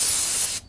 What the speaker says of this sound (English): The brake cleaner evaporates real fast.